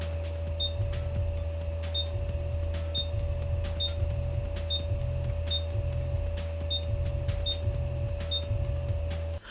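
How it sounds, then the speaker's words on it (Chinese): X-axis stepper motor of an Anycubic Mega X 3D printer running on an upgraded TMC2209 driver, a steady hum with a regular pulsing rhythm and faint repeated ticks from back-and-forth moves. "我们再来听一下已经换了驱动的 X 轴。"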